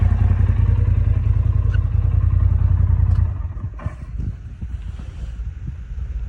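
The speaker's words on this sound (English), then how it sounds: "we got the factory exhaust put back on without the cat" A Polaris RZR Pro XP side-by-side's engine idles through its factory exhaust with the catalytic converter removed, a deep, rumbling exhaust drone, then cuts off abruptly, leaving faint wind and scattered small noises.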